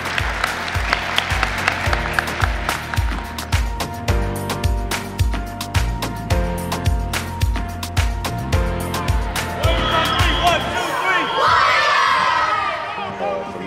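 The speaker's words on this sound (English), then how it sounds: "That's right, let's clap." A crowd claps and cheers at a youth center gym unveiling, first under a pounding rhythmic beat, then breaking into open, loud cheers and shouts for the final few seconds.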